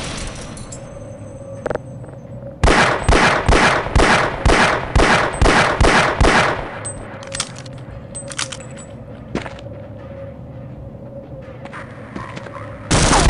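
Automated turret gunfire in the video game Half-Life: a rapid, evenly spaced burst of about a dozen sharp, loud shots lasting around four seconds, with a few scattered clicks and thumps before and after against a low game hum.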